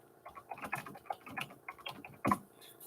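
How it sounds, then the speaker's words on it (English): Keys tapping on a computer keyboard in an irregular burst of clicks, close by and fairly quiet, with one louder strike near the end. "I say things when I type."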